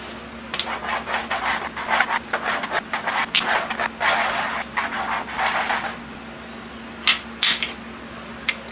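Edges of pulley spacers being smoothed by hand, a steady close rasping and rubbing in repeated strokes with short pauses, fairly loud against a constant low hum.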